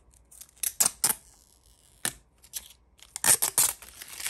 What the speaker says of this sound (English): So let's go on ahead and peel off the inside.